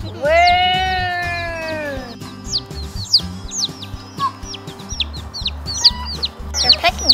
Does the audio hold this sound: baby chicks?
yes